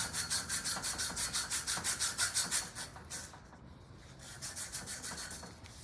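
Copper pipe of 7/8 inch size being scrubbed clean before cutting for brazing, a steady rhythmic back-and-forth rubbing of about a dozen quick strokes, a brief pause, then more strokes, close and fairly quiet.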